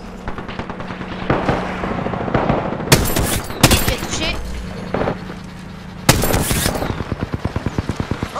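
Gunfire in the battle-royale game Apex Legends: rapid bursts of automatic fire and sharp single shots, loud and close, with fast rhythmic volleys and a speaker talking over parts of it.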